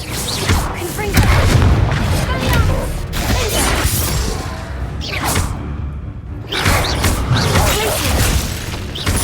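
Loud Confringo fire-spell explosions in the video game Hogwarts Legacy, dense booming blasts and whooshing debris crashing through most of the span, with a brief lull midway before another burst of impacts.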